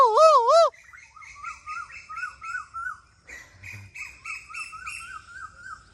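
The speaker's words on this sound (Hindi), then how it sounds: "और इधर कोयल की आवाज़।" Asian koel calling in an orchard setting, a loud, near, wavering whistle-like call opening the clip, followed by softer repeated rising chirps and tweets in a steady rhythm, with no talking.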